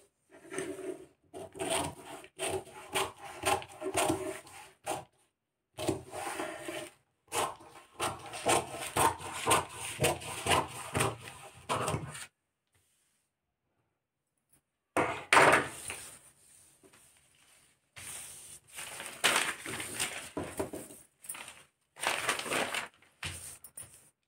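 Scissors cut a paper sleeve pattern into a rounded shape, giving bursts of crisp snipping and rustling paper separated by short pauses and one longer silence, close and fairly loud with no talk.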